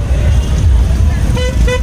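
Heavy road traffic rumbles close by, with two short car horn toots cutting through the steady engine noise near the end, while someone talks over the din.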